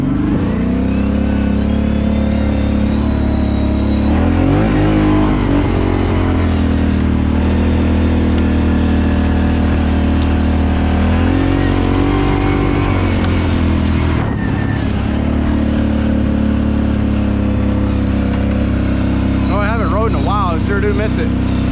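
A Kawasaki Brute Force 750 ATV engine revs and drones up close while being ridden, climbing and dropping in pitch as the throttle opens and eases, with a rider talking over it.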